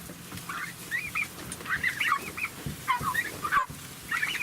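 Chickens in a coop, hens milling around near their perches, giving repeated short clucks and squawks that come in irregular bursts, close by, over a low rustling background.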